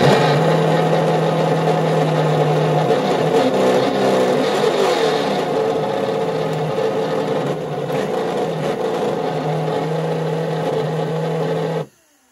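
A Traxxas Slash 4X4 RC car with option parts and speakers fitted in its body gives a loud, steady engine drone with rising and falling revs for about twelve seconds before cutting off abruptly.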